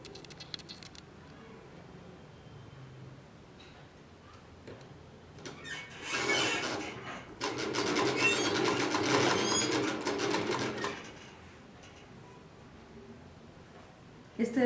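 A sewing machine stitches a neckline seam on fabric in a home sewing class, a close rapid whirring burst of several seconds with a brief pause partway through, and someone talking quietly before and after.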